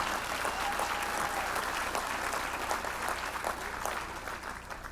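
A round of applause from an audience at a community event, steady, even clapping from a large crowd that fades slightly near the end.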